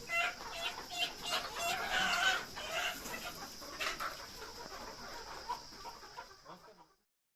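Sonali chickens on a poultry farm near Dhamtari cluck and crow steadily, a rooster's call rising above a dense, continuous flock chatter with no talking.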